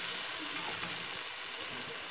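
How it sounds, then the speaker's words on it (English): Ground beef and onions browning in a hot pan give off a steady, dense sizzle, a continuous crackling hiss with no pauses throughout. "just getting the meat all browned with the onions"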